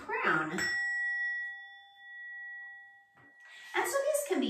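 Singing bowl struck once, a clear sustained ringing tone with several overtones that slowly fades, heard between stretches of a person talking.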